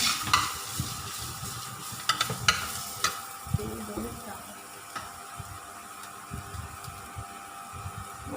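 Garlic frying in oil in a home kitchen, a steady close sizzle broken by stirring scrapes and clinks, with some voice under it.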